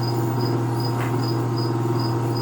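A 2 hp three-phase electric motor runs with a steady low hum, plus a regular high chirping whine that pulses about twice a second. No one speaks.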